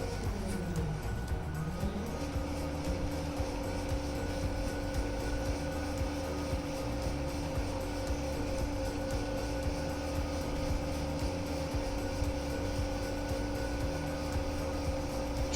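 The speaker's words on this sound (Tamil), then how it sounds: "நான் இங்கே த்ராட்டில் அப்ளை பண்ணிகிட்ருக்கேன்." Motor whine from a 36V 350W hub-motor fat-tyre e-bicycle accelerating under throttle, a steady tone that rises in pitch over the first two seconds and then holds, loud and close over constant road and wind noise.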